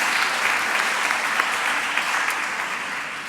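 Audience applause at a round-table session of a One Health conference: steady, dense clapping from a crowd, loud and sustained throughout without pause.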